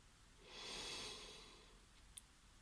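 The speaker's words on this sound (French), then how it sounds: "je t'invite à prendre une grande respiration" A single slow, deep inhalation during a guided meditation, a soft airy breath swelling over about a second and fading, quiet and close, with a tiny click near the end and no talking.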